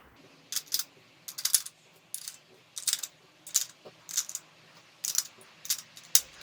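Plastic 9mm-sized dummy rounds clicking one by one into a model gun magazine, about a dozen sharp close snaps in a steady, slightly uneven rhythm with quiet gaps between them.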